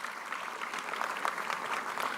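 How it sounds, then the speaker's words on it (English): A conference audience applauds a speaker taking the stage, a short burst of steady, fairly distant clapping with no voices over it. "Can we have a huge round of applause?"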